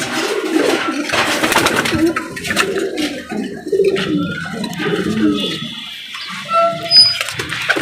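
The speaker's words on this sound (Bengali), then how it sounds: "হাতে এতগুলো কবুতর দেখানো যাবে না, তাই আপনাদের এবার দেখা যাচ্ছে কিছু কবুতর" Pigeons coo repeatedly at close range, with soft, throaty, rolling calls overlapping one another, plus some light rustling and fluttering around them.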